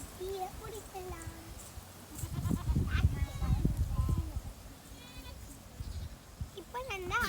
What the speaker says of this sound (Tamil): இன்னொரு ஆட்டுக்குட்டியை பிடிக்கலாம்.